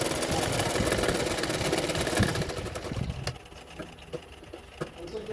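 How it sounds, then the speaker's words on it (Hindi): A sewing machine stitches the side seams of a size 36 katori blouse with a steady, close, running whir for about three seconds, then slows and stops, leaving a few light clicks. "दोनों साइडों में मैं इसी तरह से सिलाई कर लूँगी"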